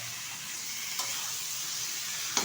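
Washed mutton goes into oil with well-fried spices in a pan, giving a steady close sizzle and hiss, with a couple of sharp clicks from a spoon or pan, no voices.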